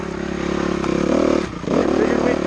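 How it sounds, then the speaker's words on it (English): A Honda CRF 250R dirt bike rides along a single track trail, its engine droning steadily and loudly with a short dip in level about midway before picking back up. "So here we are out on the CRF 250R, riding a little single track."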